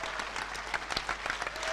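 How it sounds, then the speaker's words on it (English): Audience clapping in a function suite for footballer Paul Gascoigne, a dense steady wash of applause from a nearby crowd, with no voices over it. "Can we have a big round of applause for the one and only Paul Gascoigne."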